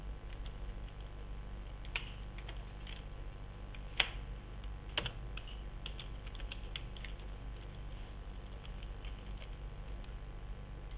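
Typing on a computer keyboard in Word 2007 makes scattered faint clicks and a few sharper key taps over a low steady hum, with no talking.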